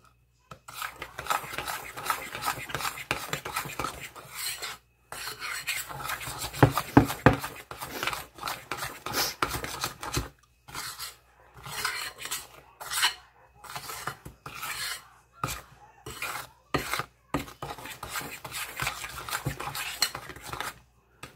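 Salt being mixed into cookie dough for snickerdoodles in a bowl, giving repeated scraping and rasping strokes with intermittent pauses, close and fairly loud with no talking.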